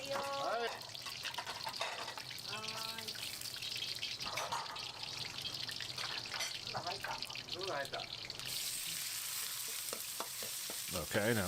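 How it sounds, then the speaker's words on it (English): Breaded pork belly fries a few pieces at a time in a small wok, giving a continuous dense sizzle with stirring clatter, while people talk over it throughout. "Although he's frying only a few pieces at a time in a pretty small wok."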